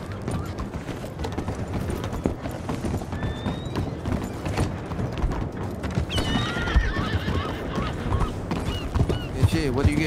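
Galloping hooves pound continuously in Red Dead Redemption 2 roleplay, with a horse whinnying loudly near the end, all mixed with game sounds and brief voices.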